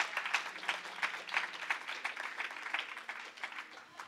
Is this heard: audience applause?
yes